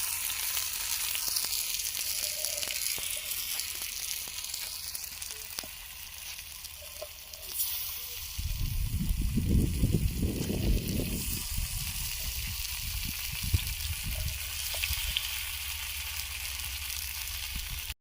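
Pomfret fish slices, cut hotel-style and coated in masala, fry in oil on a tawa, a steady soft sizzle that swells into a louder crackling, bubbling burst midway before settling back to a low hiss.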